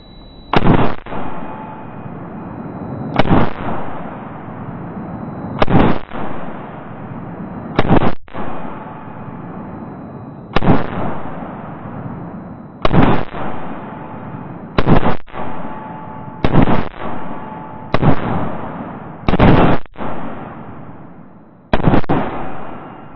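A 5.56 rifle fitted with an OSS Bannar Alpha 1 muzzle brake and flash hider fires about eleven loud, sharp shots up close. The shots come at irregular intervals, each with a short reverberant tail.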